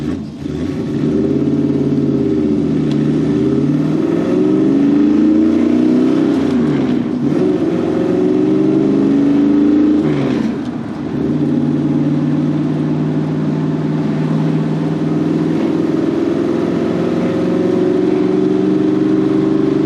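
A 1966 Ford Mustang restomod drives down a street, its engine rumbling steadily and loud throughout, with two brief dips in revs as it shifts or lifts off before pulling again.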